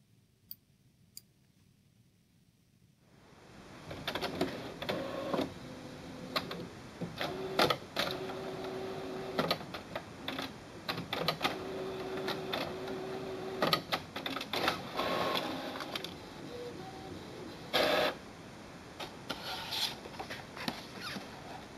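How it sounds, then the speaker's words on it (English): An HP Envy Photo 7155 inkjet printer prints a photo on photo paper, starting after a near-silent pause with a whirring feed and then busy clicks, ticks and carriage whines that keep going, close and fairly loud. "So this is how you print a photo on the HP Envy Photo 7155 printer."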